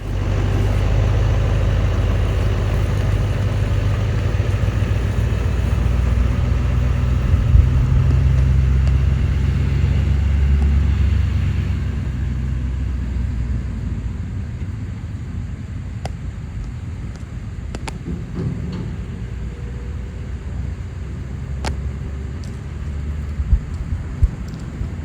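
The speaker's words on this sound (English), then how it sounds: "Dan's car has left" A twin-turbo LS-powered Chevrolet Nova pulls away, its deep engine rumble loud at first, then thinning and fading into the distance as faint background noises take over.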